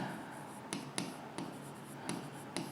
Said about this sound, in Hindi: ब्लैक पेन से लिख देता हूं